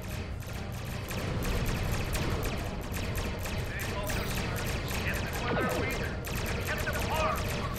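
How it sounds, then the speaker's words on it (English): Starship torpedoes fire in a Star Trek Online space battle, a dense run of loud weapon bursts and impacts layered over constant game noise, with voices talking throughout. "Torpedoes away."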